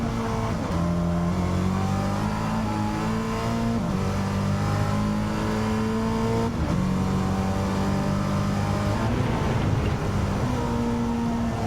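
A loud, throaty muscle-car engine roars continuously in Gran Turismo 7, its pitch climbing through gears and dropping at each shift, with no talking.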